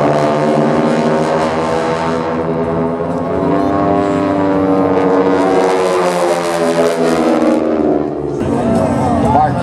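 A propeller airplane at an air show passes close and loud, its propeller tips running near supersonic to give a harsh, buzzing tonal roar that holds steady and shifts pitch as it goes by.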